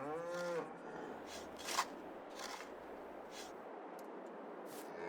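A cow moos once, fairly close, in a realistic farming simulator game, followed by quiet ambient farm noise with faint clicks and light rustling bursts.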